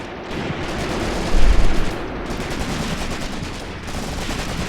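Sustained machine gun fire in the Graviteam Tactics: Mius-Front war game, a dense continuous rattle of rapid shots with a louder heavier burst about a third of the way in, no voices.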